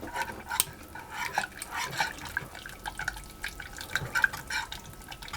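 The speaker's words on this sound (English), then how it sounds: "and I'm going to put in my vanilla extract and my oil. I'm just going to whisk those through." Whisk clattering steadily through vanilla extract and oil in a bowl for chocolate cake batter, a close, busy run of small wet taps and scrapes with no talking.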